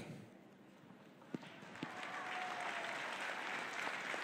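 An audience applauds the new municipal president during his inaugural address, the clapping starting after a couple of sharp claps and swelling into sustained, dense applause from a crowd.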